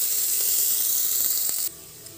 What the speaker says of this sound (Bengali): এখন এই পেঁয়াজও একটু লাল লাল হওয়া অবধি ভেজে নেবো